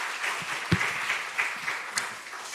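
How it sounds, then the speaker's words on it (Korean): Steady applause from a church congregation after a hymn fills the clip, dense and continuous, with a few louder individual claps standing out. "할렐루야 찬양에 더 큰 박수로"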